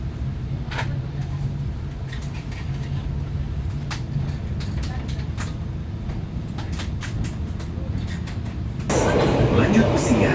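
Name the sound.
passenger train KA Mutiara running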